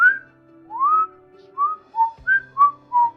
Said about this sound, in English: I could whistle inwards though.